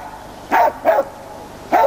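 Laika hunting dogs bark at a 1999 Russian bear and boar trial: three sharp, loud, close barks in quick succession, with no voices.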